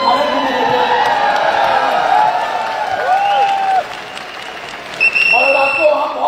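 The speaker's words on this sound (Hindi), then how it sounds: "तालियां बजा लीजिए" An audience at an IMC company event applauds with dense, loud clapping. Cheering and a few whoops mix into it, it keeps going under someone speaking Hindi, and a brief tonal burst sounds near the end.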